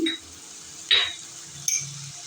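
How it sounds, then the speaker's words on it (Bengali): Mango paste and spices fry in a pan with a soft sizzle, broken by two sharp clinks of a spoon against the pan. "আর দিয়ে দিচ্ছি আমবাটা এটা আমি ভালো করে কষিয়ে নেব মশলার সঙ্গে"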